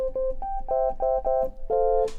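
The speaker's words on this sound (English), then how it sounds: "that sort of sounds like a sine wave" A Yamaha Montage/MODX synthesizer saw-wave patch with its low-pass filter cutoff turned right down and a little resonance, so it plays a soft, pure, sine-like tone, heard as a quick run of short notes at moderate volume.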